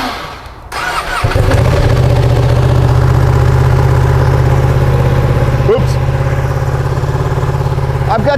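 A Ducati Panigale V2 fitted with an Akrapovic titanium exhaust fires up from cold and settles into a loud, steady, throaty idle close by, with a brief blip partway through.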